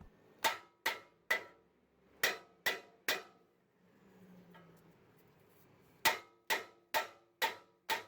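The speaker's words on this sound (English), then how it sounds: "you want to use a good hammer and hit around the inside of the rotor" A hammer strikes the inside of a Toyota Sequoia brake rotor to free it from the hub, sharp metallic blows in quick bursts of three, a short pause, then a faster run of five, close and alone.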